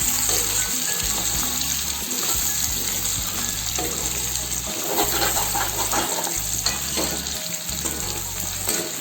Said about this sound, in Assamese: এবাৰ মই মাংসটো পুনৰ লৰাই দিছো